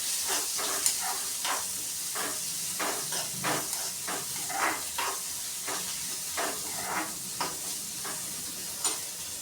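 Garlic, ginger, green chilli and onion sauté in a pan with a steady hot sizzle, broken by repeated scraping stirs at an uneven rhythm, close and fairly loud.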